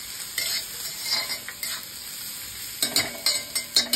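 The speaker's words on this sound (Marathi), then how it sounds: "छान असं आपल्याला गोल्डन कलर येईपर्यंत भाजून घ्यायचंय कांदा" Onion fries in oil in an iron pan, giving a constant soft sizzle. Scraping stirs cut in near the start, and a quicker run of sharp scrapes comes toward the end.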